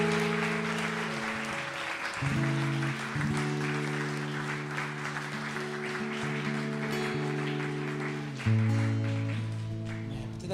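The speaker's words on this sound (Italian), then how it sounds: "Facciamo un applauso al Signore." Congregation applauding in a church during a worship service, steady clapping over sustained organ or keyboard chords that continue throughout, moderately loud and fairly close.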